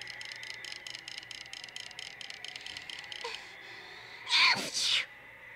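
A short double sneeze bursts out near the end, following a stretch of rhythmic clicking and background noise.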